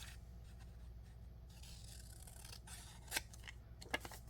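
Scissors cut paper for a belly band, a soft close snipping and rubbing at first, then two sharper, distinct snips near the end, quiet with no talking.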